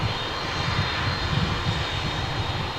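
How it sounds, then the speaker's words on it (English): American Airlines Boeing 787-9 Dreamliner on arrival at DFW from Auckland, its jet engines giving a steady loud rumbling roar with slight pulsing, close and continuous, with no voices. "It's a 787-9 Dreamliner."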